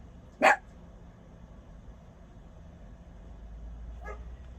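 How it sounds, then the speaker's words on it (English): A single short dog bark sounds clearly near the start, then a much fainter bark follows a few seconds later over quiet room hiss, with no talking. "Sorry, that's my dog."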